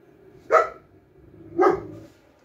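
A dog gives two separate barks about a second apart, close and fairly loud, with quiet room sound between them and no talking.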